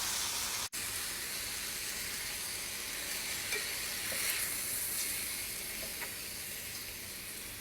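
Thick cuts of chicken sizzle steadily in a hot pan, a continuous bright crackling hiss with one brief dip near the start as a piece is flipped, no talking.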